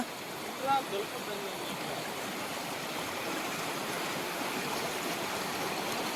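Village stream water rushes steadily downhill in a constant broadband flow, with a brief voice near the start.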